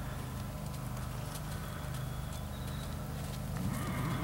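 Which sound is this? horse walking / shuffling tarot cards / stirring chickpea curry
horse walking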